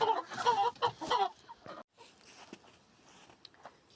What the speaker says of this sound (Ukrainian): А тут у нас співуча курочка.